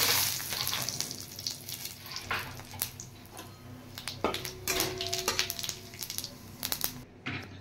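Whole dry red chillies, bay leaf and cumin seeds frying in hot oil in a pan, a continuous close sizzle broken by sharp pops and crackles with occasional scrapes, ending abruptly, no voices.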